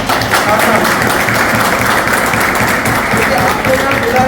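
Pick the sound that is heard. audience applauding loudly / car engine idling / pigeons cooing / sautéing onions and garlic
audience applauding loudly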